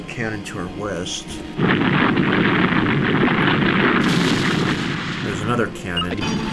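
Cannon fire booms in the video game Manamon 2, a loud sustained blast and rumble lasting a few seconds, with a voice talking before and after it.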